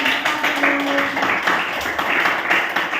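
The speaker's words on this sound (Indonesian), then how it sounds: "kasih tepuk tangan untuk" A school class audience claps after a group presentation, with distinct hand claps forming an uneven, fairly close round of applause that rises and dips, and faint voices underneath.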